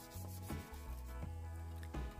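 A motorcycle body panel with thick, cracked paint is sanded by hand, giving rhythmic back-and-forth abrasive rubbing strokes, about four clear passes, close and fairly quiet, with no talking.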